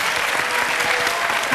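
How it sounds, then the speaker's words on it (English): A game-show studio audience applauds a contestant, giving dense, steady clapping that is loud and close across the whole stretch. "You could clap for Tiffni Jelinek."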